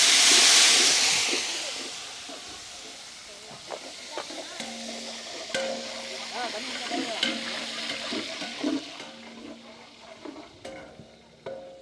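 Curry leaves and dried red chillies frying in hot oil for a Nellai wedding-style spicy potato curry: a steady close hiss and sizzle with soft stirring scrapes, louder at first and then settling, with no talking.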